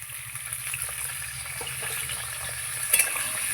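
Onion and potato frying together in a hot pan, giving a steady, close sizzle with soft crackles and a light stirring scrape throughout.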